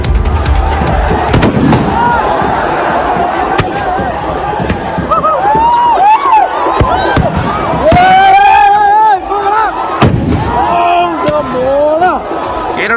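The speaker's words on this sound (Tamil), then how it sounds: "கேரளாவில் நடைபெற்ற உள்ளூர் கால்பந்து போட்டியின் போது பார்வையாளர் அரங்கில் பட்டாசுகள் வெடித்ததால் அங்கிருந்தவர்கள் அலறியடித்து ஓடிய காட்சிகள் தான் இவை." Firecrackers bursting in the spectator stands at a local football match in Kerala, with loud sharp bangs and crackling pops over a roaring, screaming crowd, the noise dense and chaotic throughout.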